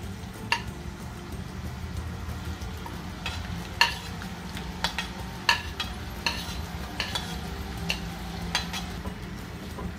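Lengthwise-sliced onions fry in hot oil for masala dosa, a low continuous sizzle under frequent clinking stirs of a utensil against the pan, close and without speech.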